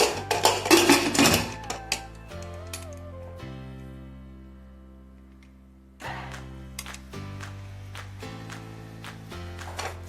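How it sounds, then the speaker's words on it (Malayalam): A pressure cooker lid is closed in a home kitchen with several sharp metallic clanks and clicks, followed by a quieter lull and a resonant pot hum, then more rattling metal knocks. "കുക്കർ അടച്ച് വയ്ക്കാം."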